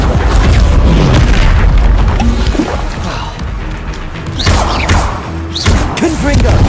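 Depulso spells are cast in Hogwarts Legacy, with heavy repeated booms and thuds in close succession, some sloshing impacts, and a voice talking between them.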